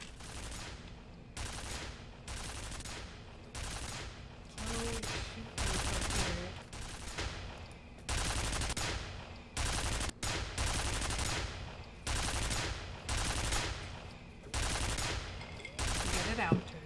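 Rapid bursts of automatic turret gunfire in a first-person shooter video game, loud and repeated in regular volleys throughout, with faint voice beneath.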